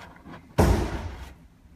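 Jaguar XJ bonnet release lever pulled inside the car, giving one sudden close thump as the hood latch pops, followed by a short decaying rattle before quiet returns.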